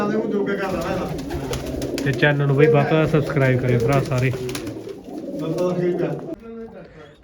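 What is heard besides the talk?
pigeons cooing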